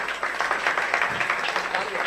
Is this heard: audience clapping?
yes